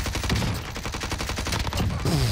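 A Milano submachine gun fires in Warzone, a loud, rapid, continuous automatic burst lasting about two seconds, with the individual shots closely and evenly spaced.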